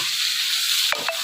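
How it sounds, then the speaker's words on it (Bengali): Chopped tomatoes dropped into a pan of frying onion and garlic, giving a steady close hiss of sizzling oil with a couple of brief stir scrapes near the end. "টমেটোগুলো এখন দিয়ে দিলাম।"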